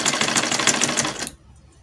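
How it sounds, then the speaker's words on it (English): A sewing machine stitching seams on a lab coat runs in a steady rapid mechanical rattle for about a second and a quarter, then stops abruptly into near silence. "Then I'll stitch it up."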